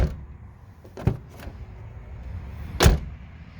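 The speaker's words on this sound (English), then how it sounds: "give you the before, and then after it's done, give you the after of what it sounds like opening and closing the door" A car door opens and closes, tested before sound deadening insulation is added: a faint latch click, a soft thud, then a firmer close near the end, heard alone over low background hum.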